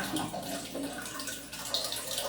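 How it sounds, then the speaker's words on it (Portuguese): Dry beans being rinsed by hand in filtered water in a kitchen bowl, a continuous close sloshing and swirling with small splashes and no talking. "Aí você lava ele na água filtrada e deixa de molho. Dá o barulhinho na água."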